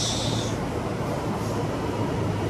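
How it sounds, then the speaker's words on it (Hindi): A Delhi metro train pulls in with a steady, loud broadband rumble and hiss filling the platform, wheels and motors droning continuously without pause. "और मेट्रो भी आ गई है तो जल्दी से ये घर पहुँचा देगी हमें"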